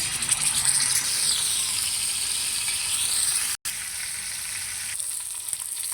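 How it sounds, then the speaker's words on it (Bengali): Rui fish sizzling loudly in hot oil in a pan, a steady dense crackle that runs throughout with one brief dropout midway, no voices. "এবার মাছ ভেজে নেব।"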